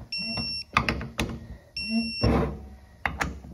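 Shrill electronic beeps from an electronic torque wrench during a Toyota A340E transmission rebuild sound in short bursts, three distinct tones at a time, interspersed with clicking, ratcheting mechanical noises and a brief buzz.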